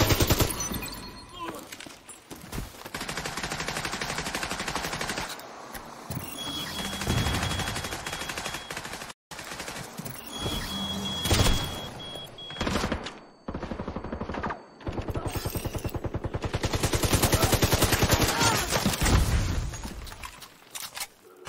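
Sustained automatic gunfire in the video game The Division 2 during a boss fight, loud rapid bursts that run almost nonstop with brief pauses and some booming impacts, mixed with game audio.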